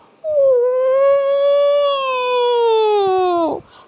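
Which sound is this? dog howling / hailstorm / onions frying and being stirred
dog howling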